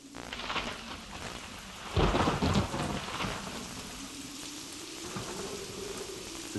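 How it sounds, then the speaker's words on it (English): Steady heavy rain with a loud rumble of thunder breaking through partway, then rolling on beneath the downpour. "Then a storm burst."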